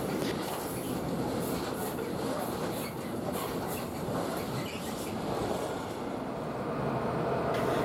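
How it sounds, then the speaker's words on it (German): Freight train hauling clay wagons on the Main-Lahn line, drawn by a class 185 electric locomotive, rolls past as a steady, loud rumble with faint clattering wheels throughout. "Regelmäßig verkehren Tonzüge von und nach Limburg, die in der Regel von 185er E-Loks erbracht werden."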